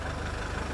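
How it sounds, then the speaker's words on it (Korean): KG Mobility Rexton diesel engine idling with a steady, close low rumble and a faint rattly clatter, heard alone with no talk. "지금 보시면 디젤 소리, 겔겔겔 소리가 들리거든요."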